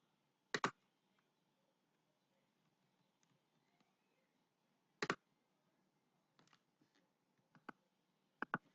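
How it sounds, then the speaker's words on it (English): Computer mouse clicking while selecting images in design software: sharp close clicks spaced irregularly, a double click near the start, single clicks later and a few fainter ticks, in a quiet room. "I'm holding control while clicking on the two images"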